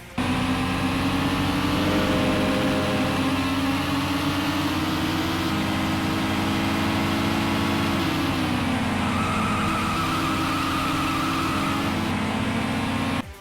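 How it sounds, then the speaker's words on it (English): A Ferrari in a Nintendo DS racing game drones with a synthesized engine tone, its buzzy pitch steadily climbing and dropping through rev changes, loud and continuous with no talk. "Engine noises are surprisingly convincing for DS hardware, each car has a distinct tone, and rev changes are communicated somewhat clearly."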